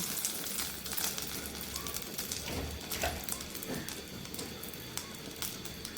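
Bay leaves tempering in hot oil for a fish curry, a steady close crackling sizzle that runs the whole time with scattered sharp pops over it.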